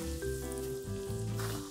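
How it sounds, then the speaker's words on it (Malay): Pieces of squid dipped in flour batter sizzle and crackle in hot oil, a steady close frying hiss in a home kitchen, with no voices. "Goreng sotong celup tadi."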